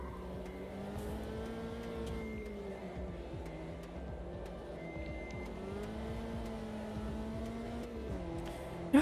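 Race car engine in a sim racing video game, a steady high-pitched whine rising and falling with gear changes and cornering, continuous and fairly quiet with faint tire noise underneath.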